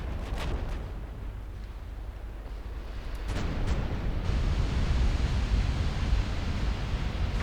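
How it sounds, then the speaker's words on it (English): Torpedo hits explode against warships in a naval strategy game, a heavy, rumbling roar of muffled booms that swells louder partway through, with a few sharper cracks and no talk. "Getting many torpedo hits."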